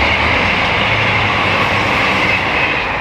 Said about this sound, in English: the bloody train is so close